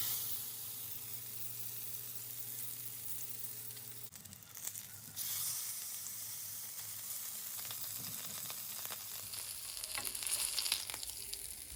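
A super thick salmon fillet fries steadily in a pan, its even sizzle and crackle running throughout, with a brief louder burst of spatter midway and rising hiss near the end, no voices.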